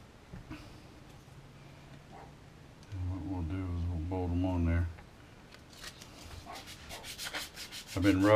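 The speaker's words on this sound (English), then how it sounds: "I've been roughing this plastic up so it would take paint real well" Sanding pad rubs against a plastic RC truck bumper, a rough scratching hiss in short bursts, fairly faint and close, with someone talking in between strokes.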